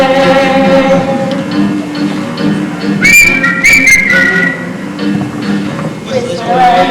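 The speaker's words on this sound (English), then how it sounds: "Whistle away, whistle away." A person whistles a wandering tune in clear, fairly loud tones, with speech around it and a sharper rising whistle burst in the middle.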